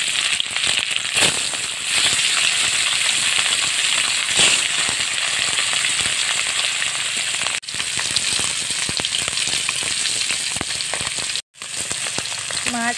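Rohu fish pieces fry in hot oil in a wok over a village cooking fire, giving a loud, steady, crackling sizzle that runs throughout with one brief dropout near the end.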